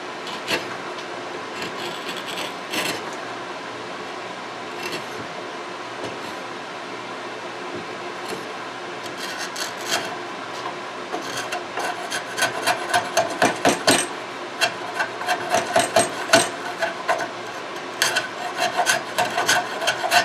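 A wooden spoon blank is rasped and honed in a workshop, with steady scratchy strokes that grow into a quicker, louder rhythm of repeated rasping passes near the end, close up, with no voices.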